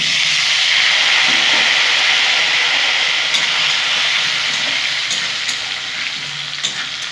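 Round new potatoes fry in hot oil with a loud, continuous sizzle and hiss, punctuated by occasional crackles and stirring scrapes that ease slightly toward the end.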